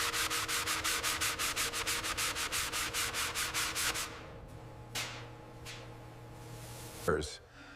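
Rhythmic sanding strokes on the steel body of a 1923 Franklin Series 10 sedan, taking it down to bare metal, a steady rasping back-and-forth for about four seconds, then a few isolated scrapes and a short clatter near the end.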